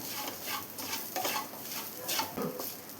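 Fried chicken is stirred into a spice mixture in a pan for a chicken chutney powder, with faint, repeated scraping and shuffling strokes and a low sizzle underneath, all fairly quiet.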